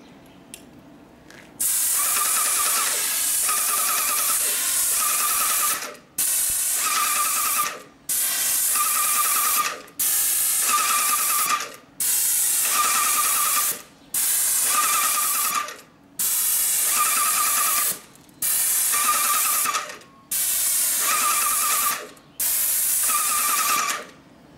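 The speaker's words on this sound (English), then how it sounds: "when I depress the knob, paint or water in this case will flow out of the gun and the machine will start to operate" An HD440 hi-pressure airless paint sprayer sprays water in ten or so loud, even bursts of hissing spray, each a couple of seconds long and cut by short gaps, close and with no voices.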